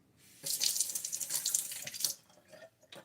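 Tap water runs steadily while rinsing after a wet shave, starting abruptly and splashing close and fairly loud for about two seconds before dropping to quieter trickles and drips.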